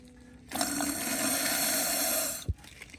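Water rushing and gurgling through a steam boiler pigtail pipe as someone blows through it, a loud continuous burst of about two seconds ending with a sharp thump.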